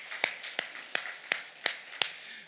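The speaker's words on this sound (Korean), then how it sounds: "박수로 영광." Six sharp, evenly spaced claps at a steady beat ring out alone during a Korean Sunday worship service at a church in Gimpo, Seoul, crisp and moderately close.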